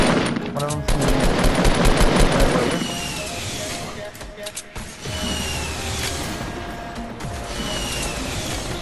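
Automatic gunfire in the battle royale game Fortnite rattles in rapid bursts, loudest early on and then returning in scattered volleys. Players talk over the shooting throughout.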